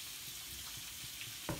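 Chard stems and garlic sizzle softly in a frying pan, a faint steady hiss with a sharper clatter near the end.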